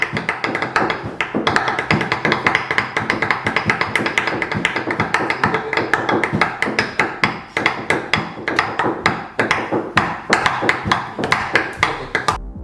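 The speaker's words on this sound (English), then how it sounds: "get a knife or two and just start hacking away at it" Two knives hack rapidly at roasted aubergine on a cutting board, a dense, loud run of sharp chopping taps that continues steadily without talk.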